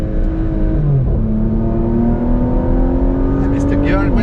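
A 2023 Porsche Macan GTS pulls hard through its gears with paddle shifts, the engine note climbing steadily, then dropping briefly at a shift before rising again, loud and close from inside the cabin.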